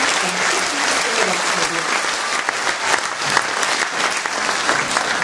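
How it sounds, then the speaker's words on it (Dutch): An audience at a charity music evening gives a sustained round of applause, dense and steady clapping with no one talking over it. "Een applaus voor Barbara."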